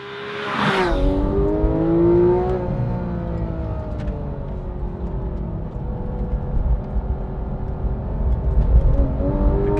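A Porsche 911 GT3 (991) engine revs high: a sharp burst opens, then a sustained, loud mechanical wail whose pitch climbs, holds and eases, with a steady whirring drone continuing close by.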